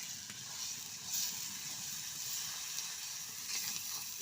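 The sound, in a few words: spice masala frying in oil with salt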